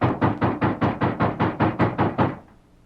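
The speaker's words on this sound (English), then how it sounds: "And then there was a loud knock on the door." Heavy knocking on a wooden door, a radio drama sound effect: eleven loud, evenly spaced raps over about two and a half seconds, close and alone, then silence.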